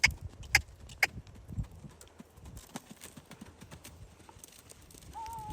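Horse galloping in a riding lesson, rhythmic hoof thuds on soft ground near then fading, with a few sharp clinks early on and a brief tonal whine at the end.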